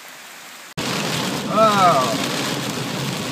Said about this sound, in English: thunder. Rain.